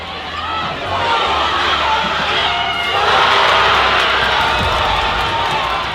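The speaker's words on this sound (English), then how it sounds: "Nah, the crowd go crazy after I hit the 3." Crowd at a high school basketball game roars and whoops after a corner three-pointer, a loud sustained cheer that swells midway and stays dense throughout.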